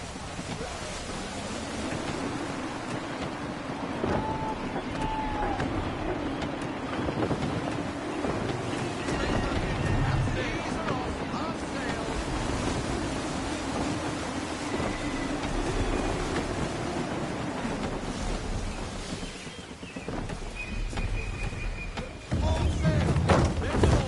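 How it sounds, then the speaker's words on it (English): Steady gusty wind rushes over open sea in Assassin's Creed 3 while a ship sails, a continuous broad roar that swells and eases under occasional game speech, with a louder burst near the end. "Wind looks to be shifting. Stay alert, Connor. Gusty winds can be difficult to manage."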